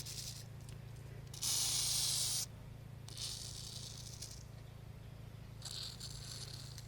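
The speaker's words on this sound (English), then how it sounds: "Use some WD-40 just to help keep the rust off" WD-40 aerosol can spraying onto a rusty old large wrench in a workshop: three separate hissing bursts, the first longest and loudest at about a second, the later two shorter and softer, over a steady low electrical hum.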